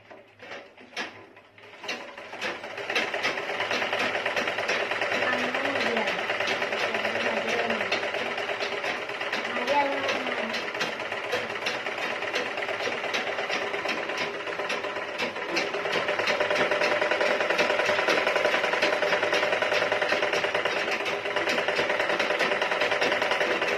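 A treadle sewing machine is pedalled at a steady pace, giving a continuous rhythmic mechanical clatter with ticking and whirring parts that builds after a brief start and runs on for about twenty seconds.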